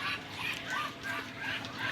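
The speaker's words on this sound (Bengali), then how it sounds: "এখন আমি আমার চীনা হাঁসগুলোকে হচ্ছে বাহিরে ছেড়ে দিছি" Chinese ducks let out into the open on a duck farm, their quacks rising repeatedly from a steady background of outdoor noise at a moderate distance.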